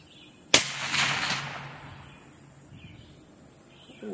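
A Remington 700 rifle in an AB Arms Mod*X chassis fires one sharp shot outdoors at a target range, followed by a short decaying echo and then quiet ambience with faint insects or birds.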